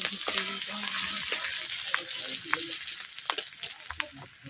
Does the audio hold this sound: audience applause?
no